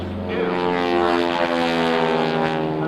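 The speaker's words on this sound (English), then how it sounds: "Over the top they go, kicking the airplane out of control for another Lance turn." A Red Baron Squadron propeller airplane at the 2002 Willow Grove air show roars steadily and loudly overhead with a droning, harmonic engine tone while performing aerobatics, alone without talk.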